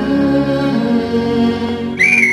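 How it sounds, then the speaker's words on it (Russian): A referee's shrill, steady whistle blast at a yacht race finish cuts in near the end, rising above a constant low background hum. "Слышен свисток судьи."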